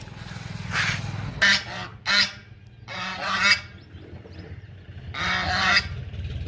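A male duck calls beside a road, giving loud, harsh honking calls in several separate bursts, close by, with no talking.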